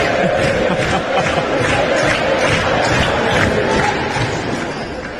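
Basketball arena crowd cheering for Italy during a final against Switzerland, a dense, steady roar of many voices that fills the space and fades slightly at the end.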